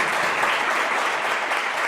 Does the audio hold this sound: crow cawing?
no